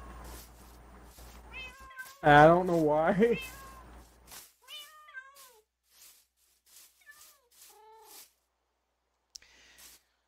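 Several video-game cats meow repeatedly in a corner near horses, with one loud, drawn-out wavering yowl followed by shorter, fainter meows, alternating with someone talking.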